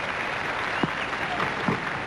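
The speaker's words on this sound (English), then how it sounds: "The crowd's been very noisy" Cricket crowd at a Pakistan vs West Indies World Series match in Perth, 1992, applauding a well-played shot, with steady, dense, distant clapping and crowd noise filling the whole moment.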